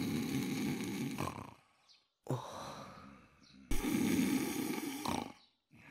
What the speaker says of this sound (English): What a kingly snore.